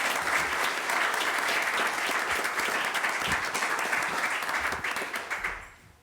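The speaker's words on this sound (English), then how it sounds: "Let's have a round of applause for all of our aspiring leaders." An audience at a board of education meeting applauds aspiring leaders from local schools, a loud, dense round of clapping that carries steadily for several seconds before tapering off near the end.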